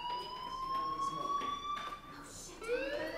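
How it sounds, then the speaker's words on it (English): Fire alarm in the video game Life Is Strange, a continuous electronic wail whose tone slowly rises, then drops and restarts, heard at moderate level over a quiet background. "Hey, do you hear that fire alarm?"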